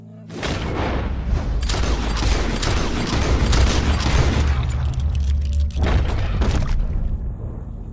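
A loud gunshot booms in Red Dead Redemption 2, followed by dense rumbling gunfire and a second sharp blast near the end, close and heavy.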